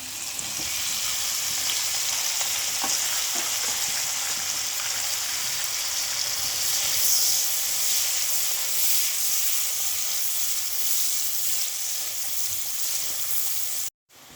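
Onions sizzle steadily in hot oil left from frying anchovies, cooked for Malaysian sambal to serve with nasi lemak; a dense, even hiss close to the pan that continues unbroken before stopping abruptly.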